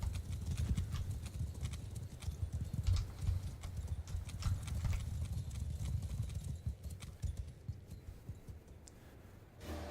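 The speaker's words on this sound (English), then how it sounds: "So now let's flank them with the cavalry." Cavalry horses galloping in the Mount & Blade II: Bannerlord game, a dense, continuous clatter of many hooves at close range with a faint neigh, steady throughout.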